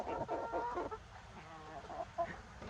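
Buff Orpington hens clucking inside a coop, a soft run of close, busy clucks and murmurs at low volume, fading briefly before a few sharper calls.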